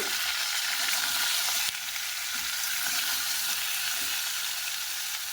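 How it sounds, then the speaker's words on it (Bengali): Vegetables for shukto sauté in a hot pan with a continuous, loud sizzle and a brief stir partway through, close and without talk. "সবজিটা জাস্ট একটু কষিয়ে নেব"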